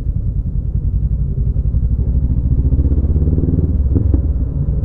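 Road traffic in Baguio, with a continuous close engine rumble from motorcycles and cars, a dense low drone that holds steady throughout with brief clatters near the end.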